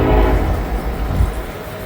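An intermodal freight train passes a road crossing, a loud, steady, close rumble of rolling railcars with no talk over it.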